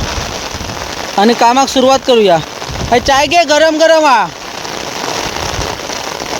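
Steady rain falls outdoors in a village farm setting, a constant broadband hiss running throughout, with someone talking over it in the middle stretch.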